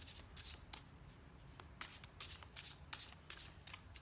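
A tarot deck being shuffled up close, a quick series of crisp riffles and flicks with no talking.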